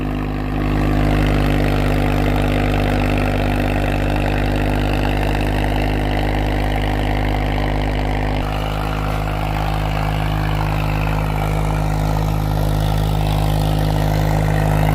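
A Swaraj 744 tractor engine works under load in a wet field, a steady loud diesel drone with strong low harmonics that holds continuously throughout, with a slight shift in tone partway through.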